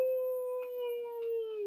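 A dog gives a long, sustained howl in a steady tone, fairly faint and alone.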